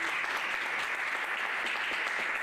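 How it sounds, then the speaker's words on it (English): An audience at a panel discussion on revenue and press freedom applauds steadily, a dense, even wash of clapping that holds at moderate level for the whole stretch. "call them up and ask everyone to give them a round of applause"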